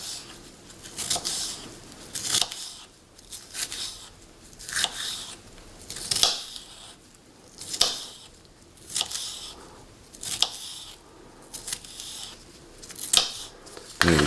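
Pork is cut into little pieces for an omelet, giving a regular series of crisp snipping cuts, about a dozen crunchy bursts spaced roughly a second apart, close and clear with no talk.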